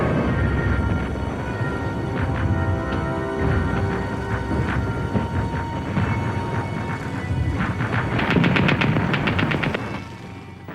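Sustained WW1 machine gun fire from German defenders rattles in loud rapid bursts over a rumbling battle backdrop, intensifying near the end before easing off.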